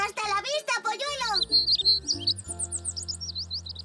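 A cartoon chick chirps in quick high tweets after a voice speaks briefly at the start, with light background music underneath.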